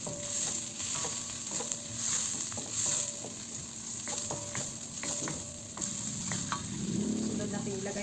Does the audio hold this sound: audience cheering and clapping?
no